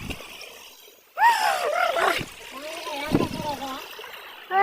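Water splashes and trickles steadily from a village water spout while voices talk over the flow, the splashing audible both before and between the speech.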